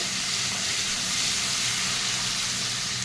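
Ginger, chili and garlic paste sizzles in a hot frying pan with oil and asafoetida, giving a steady, loud, close frying hiss that never lets up and has no talk over it.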